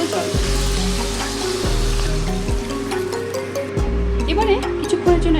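Water poured into a sizzling potato, pointed gourd and egg curry in a pan, steady frying hiss with bubbling and a few low thumps, close, under a person talking.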